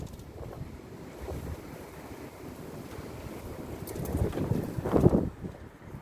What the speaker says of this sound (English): Let's see if I can see another gust.